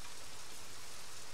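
Rain falls in the video game Heavy Rain as a faint, even hiss. It is soft and distant, with no speech or other sounds over it.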